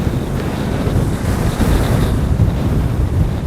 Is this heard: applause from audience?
no